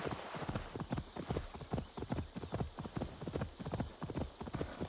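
Horse hooves from Assassin's Creed Valhalla, a brisk, steady run of loud clip-clop beats close by, the galloping rhythm repeating evenly throughout.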